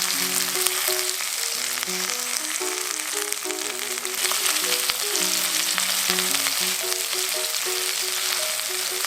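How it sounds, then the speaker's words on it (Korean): Onions fry in a pan for a cream udon, giving a steady, loud, continuous sizzle throughout with background music playing underneath. "조금 노릇하면 양파를 같이 볶아주세요"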